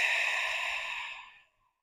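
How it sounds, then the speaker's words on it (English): A deep ujjayi breath during a yoga flow, one long breathy exhale, close and fairly soft, fading out over about a second and a half into silence. "Deep breath."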